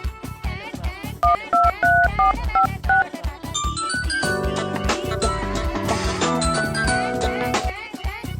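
A phone number is dialed on a telephone: a run of short, evenly spaced electronic keypad beeps, then music rises and plays on loudly.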